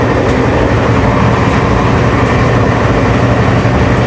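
Sairang Rajdhani Express running at speed, heard from inside the coach as a loud, continuous low rumble and roar with faint rhythmic rattling and wheel clatter throughout.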